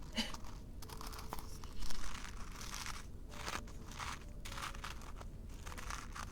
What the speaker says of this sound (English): the crunchy sounds. Yeah, so that's the loose tea inside of the tin here.